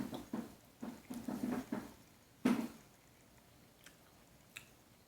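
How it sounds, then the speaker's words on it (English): A whole chocolate ghost pepper is bitten and chewed up close: a quick run of crunchy, moist chewing bursts over the first two seconds and one louder bite, then near quiet with a few faint clicks. "just going to eat the whole thing"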